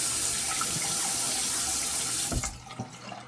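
A tap runs steadily to wet a straight razor blade, a close stream of water that cuts off abruptly, leaving a few drips and faint handling noises.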